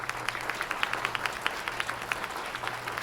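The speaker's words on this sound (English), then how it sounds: "Applause. Applause." A small crowd of characters applauds in the horror video game Corpse Party, with rapid, even hand claps over a steady background hum, moderately close and fairly soft.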